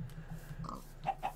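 Pigs oink and snort in a Minecraft farm setting, a few short faint grunts at a low level with no voices over them.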